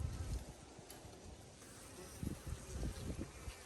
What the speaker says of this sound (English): Buzzy, buzzy, buzzy bee.